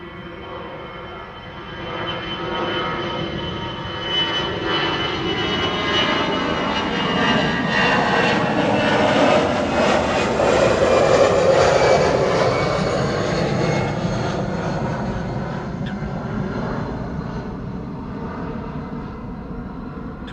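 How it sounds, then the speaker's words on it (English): An EasyJet airliner's jet engines roar at Schiphol airport, a loud sustained drone that builds to a peak midway and slowly fades as the plane passes, with no talking. "We do know that there is another airplane coming this way. EasyJet."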